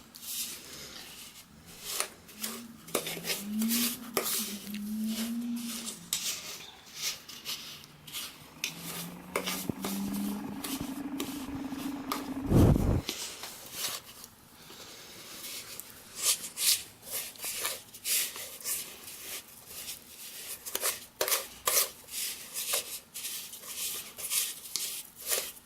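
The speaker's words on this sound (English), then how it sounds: "this is simply done by getting the back of a fork and pushing against the butter" Margarine and sugar being creamed with the back of a fork in a bowl, soft scraping and pressing taps repeating at close range in an irregular rhythm, with background hum and no talk.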